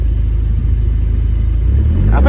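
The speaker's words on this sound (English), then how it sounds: "I think it's idling better than before" A VW Passat 1.8T engine idles steadily and close by, a low continuous rumble with a slight change in tone near the end.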